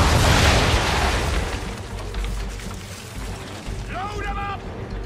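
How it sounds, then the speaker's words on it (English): Broadside of ship cannons firing in Assassin's Creed 3, a loud booming burst at the start that rumbles and fades under steady game noise, with a voice calling out near the end. "Fire broadside!"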